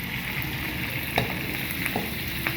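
Pork adobo fries in a pan with a steady, soft sizzle, broken by a few faint scrapes and clinks as it is stirred.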